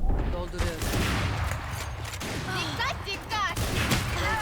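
Rapid bursts of gunfire in the tactical shooter VALORANT, cracking repeatedly and loudly over a busy game mix while players talk excitedly.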